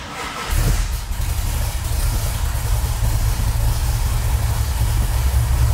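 A 1969 Dodge Charger R/T restomod engine cranks and catches, then settles into a deep, rumbling idle that stays loud and steady.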